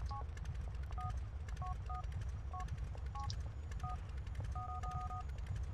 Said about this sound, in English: I think I'm supposed to call Terry, right?